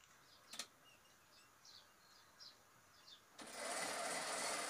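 After a near-silent stretch with faint scattered chirps, a sewing machine stitching the sides of a ladies' suit starts up abruptly and runs loud and steady close by.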